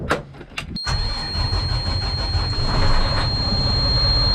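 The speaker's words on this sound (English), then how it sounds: "I'm just starting the dump truck right now." A dump truck's large diesel engine cranks over and catches, then settles into a loud, steady rumbling idle close by.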